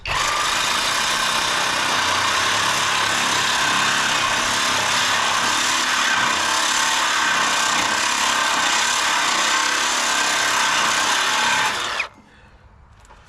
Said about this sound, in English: I tried unscrewing these the other day and they're all stripped, so I just have to cut them off.